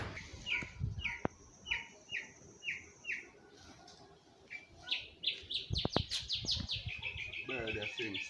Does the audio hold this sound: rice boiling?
no